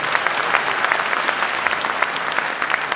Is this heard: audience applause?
yes